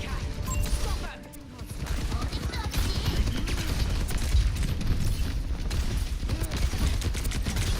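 Missiles fire during a chaotic Overwatch 2 match amid dense, continuous explosions, booms and gunfire, loud and close throughout under a busy battle din.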